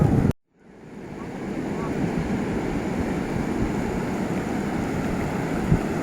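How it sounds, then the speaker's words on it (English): Storm-driven sea waves crash and roar on a beach at Cox's Bazar under a depression over the Bay, a steady broadband wash mixed with wind buffeting the microphone after a brief dropout at the start. "bustling sound of the sea"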